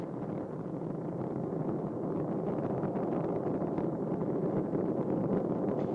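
Space Shuttle Discovery's engines during the STS-128 launch ascent from Kennedy Space Center make a steady, dense roar that stays loud and unbroken, with wind-like rumble throughout and no voices.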